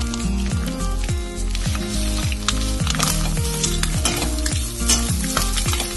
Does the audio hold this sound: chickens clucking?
no